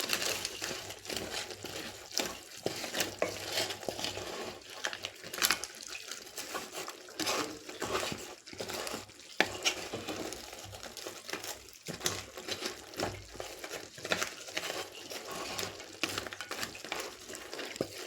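Crab pepper fry stirred in a pan, soft scraping and wet shuffling of crab pieces and spices against metal, continuous and quiet with irregular clinks.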